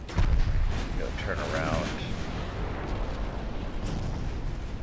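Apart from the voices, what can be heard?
naval gunfire in video game Ultimate Admiral Dreadnoughts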